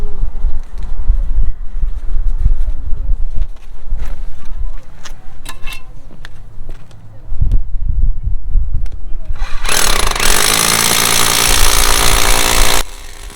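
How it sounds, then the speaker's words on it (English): A big Hilti hammer drill hammers into rock in a long, harsh burst, drilling holes for rebar, preceded by scattered knocks, scraping and low rumbling work noise. "I'm just drilling holes in for the lateral rebar here, using a big Hilti drill."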